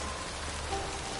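Steady rain falling in The Witcher 3: Wild Hunt, a continuous even hiss of drops on surfaces with no breaks, moderately loud and without voices.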